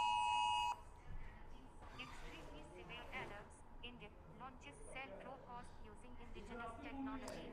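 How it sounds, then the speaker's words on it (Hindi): A Government of India NDMA emergency alert test tone blares from phones as a loud, steady electronic tone for under a second, then cuts off and people start talking indoors. "ये गवर्नमेंट ऑफ इंडिया का अलर्ट आ रहा है"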